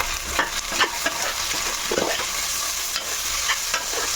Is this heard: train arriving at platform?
no